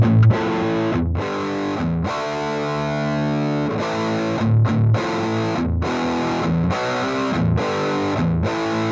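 Distorted electric guitar recorded with two microphones, mixed to favour the SP1 mic over the Royer R10, plays sustained, thick chords with brief gaps between strummed changes, loud and dense.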